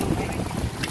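Strong wind buffets an open boat at sea near a fishing net, a steady broadband roar and rumble with microphone wind noise filling the whole stretch.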